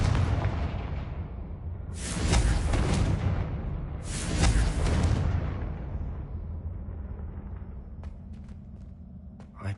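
Two heavy blasting-spell explosions in Hogwarts Legacy, a magic duel: each a loud broadband boom with a long rumbling tail, about two seconds apart, followed by a quieter ambient stretch with a few faint ticks near the end.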